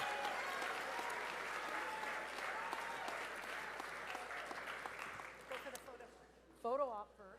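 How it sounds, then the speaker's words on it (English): Applause from an audience at a school awards ceremony as two seniors receive gifts, steady clapping that thins out toward the end, followed by a brief voice. "big round of applause for both of them"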